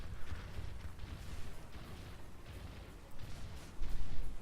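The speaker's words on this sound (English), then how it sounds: "so you can keep hearing gunfire, and so that's kind of your indicator that you're not done with this section yet" Gunfire in Gears of War Ultimate Edition rattles on in the distance, a muffled stream of rapid shots and low booms that swells louder toward the end.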